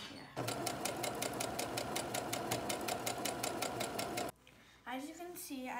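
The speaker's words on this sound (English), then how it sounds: "I'm gonna down the foot, and I'm gonna start sewing again." A sewing machine hems a cover for a rehabilitation bird basket, running steadily and loudly in a fast, even stitch rhythm for about four seconds before stopping, followed by a brief pause and then a voice speaking.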